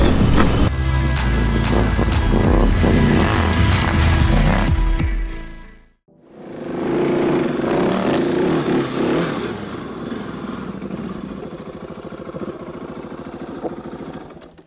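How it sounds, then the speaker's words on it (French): A Husqvarna 701 rally motorcycle fitted with an Omega Rally kit revs loudly and close, briefly drops out, then returns with a steady, throaty roar. "Alors Pierre, qu'est-ce que tu en as pensé de cette moto?"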